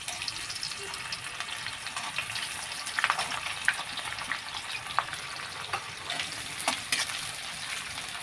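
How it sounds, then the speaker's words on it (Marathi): Onions frying in oil in a pan for prawn dum biryani give a steady, soft sizzle with scattered crackles and occasional stirring scrapes, close and even throughout with no talking. "आता बदाम काढून घेतला तर कांदा फ्राय करायला घ्यायचा"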